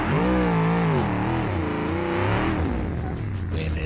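Engine of a Gavril Bluebuck car in BeamNG, fitted with a 500 cubic inch naturally aspirated engine, revs loudly with wavering pitch before cutting off, leaving a quieter whir and faint clicks.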